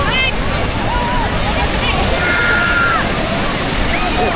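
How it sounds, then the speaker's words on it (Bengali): Rough sea surf at Puri beach, India, churns in a steady, loud roar of breaking water, with faint distant whistles rising above the wash. "বাবা রে বাবা, পুরীর সমুদ্র পুরো উত্তাল,"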